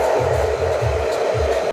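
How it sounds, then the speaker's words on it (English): A hair dryer blows on hair during a haircut, a steady close whir with a low, fluttering airflow rumble that ends abruptly. "I'm going to dry this off a little bit now."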